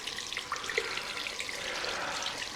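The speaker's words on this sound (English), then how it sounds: "So let's just get the hot water running." Hot water running from a tap into a sink, a soft continuous splashing trickle with small droplet plinks, close but fairly quiet, with no talking.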